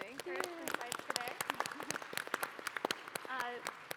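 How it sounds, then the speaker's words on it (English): Scattered, sharp clapping for panelists at a high-level plenary session on innovation and partnerships, fairly quiet and uneven, with a voice speaking over parts of it. "please join me in giving a round of applause to our panelists and thank them for their insights today"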